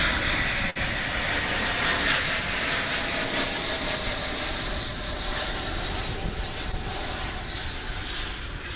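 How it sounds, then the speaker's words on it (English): An Airbus A321 arriving from Denver on flight 1067 roars past on landing at Dallas/Fort Worth, a loud, continuous broadband jet rumble filling the whole stretch with no break. "I didn't want to interrupt this incoming flight from Denver, flight 1067 and A321."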